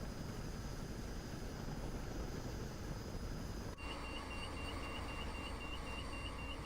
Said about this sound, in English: There's the Chinook.